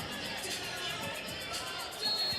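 The Brandon Valley crowd at a girls basketball semifinal in Rapid City fills the arena with a steady, distant wash of cheering and chatter that swells slightly near the end.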